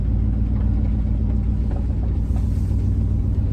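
Car interior on a rough road, with a steady low engine rumble and road noise close and continuous, no voices.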